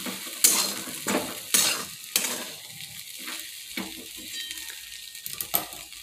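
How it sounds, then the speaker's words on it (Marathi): Sabudana khichdi being stirred in a pan: a series of distinct scraping strokes over a soft sizzle, spaced about a second apart, close and with no talking. "चांगलं व्यवस्थित मिक्स करून घेऊ"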